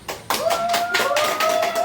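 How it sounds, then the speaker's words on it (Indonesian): A class of pupils claps their hands together in a classroom, several loose bursts of clapping over about two seconds, fairly close and moderately loud, with a faint tone running underneath. "Oke, tepuk tangan"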